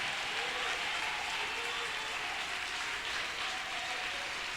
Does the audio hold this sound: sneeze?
no